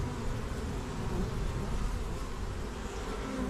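Honeybees humming from opened beehives, a dense continuous buzz close by that stays steady throughout with no voices.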